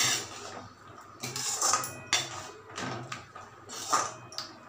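A spoon scrapes and knocks against a pan while spices are stirred into raw mango chutney sweetened with jaggery, giving close, irregular clatters and scraping strokes at a moderate level.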